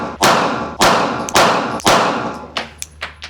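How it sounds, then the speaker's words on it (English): Five sharp gunshots from a Glock 17 Gen 6 pistol firing 115-grain rounds, evenly spaced about half a second apart at first and then quicker and fainter, each a loud close crack with a short ringing tail. "Draw, fire 1 shot, do it 5 times."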